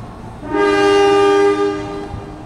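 The Serayu passenger train sounds a loud, steady horn blast of about a second and a half as it departs toward Pasar Senen, with faint station rumble beneath.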